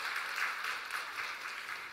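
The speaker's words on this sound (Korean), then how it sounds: "우리 박수하겠습니다." Congregation applause during a Christmas Sunday service in a church, a steady wash of many hands clapping at moderate volume through the whole span with no talk over it.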